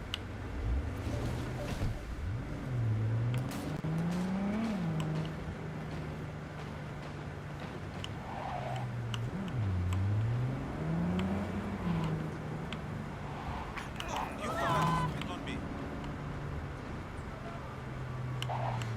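Car driving in the Cyberpunk 2077 video game, a steady engine hum sliding up and down in pitch through gear changes, mid-level and continuous, with scattered clicks and ambient game noise.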